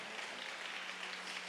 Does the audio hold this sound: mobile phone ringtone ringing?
no